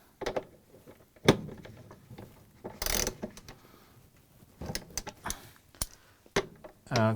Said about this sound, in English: I'm going to use the 1/2 inch socket, and we're going to tighten it.